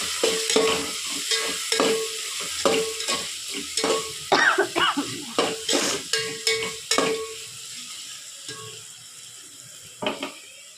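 Leftover rice for tomato rice is stirred and mixed in a pot, a series of close scraping, clattering spoon strokes in uneven bursts, tapering off to quieter scrapes near the end.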